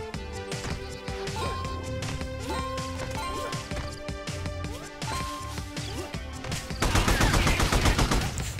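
Rapid gunfire from a weapon in the side-scrolling action platformer Rad Rodgers, a fast rattling volley of close, loud shots over game music, ending in a denser burst.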